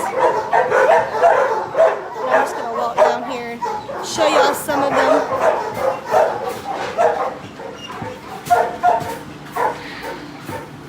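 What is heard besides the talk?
many dogs barking in a row of shelter kennels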